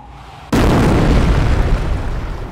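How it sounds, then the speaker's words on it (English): An incendiary mortar barrage in Company of Heroes lands with a sudden loud blast, followed by a sustained roaring rumble of burning and debris that stays strong until the end. "Order the mortar half-track to fire an incendiary barrage at the enemy infantry squad."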